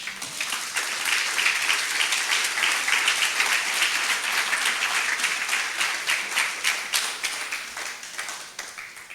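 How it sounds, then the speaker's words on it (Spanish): Sustained applause from a church congregation at a Spanish-language sermon, dense clapping holding steady throughout and thinning slightly toward the end. "¿Le das un fuerte aplauso al Señor?"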